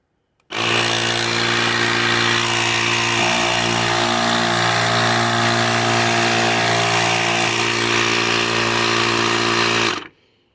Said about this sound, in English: That's just a lot quieter compressor.